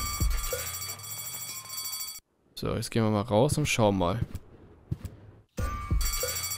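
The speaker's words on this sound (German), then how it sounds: "man sieht die Alarmanlagen bimmeln, aber es rennt halt keiner raus" Alarm bells ring steadily in the video game Deponia before and after a stretch of someone talking, returning loudly once he stops.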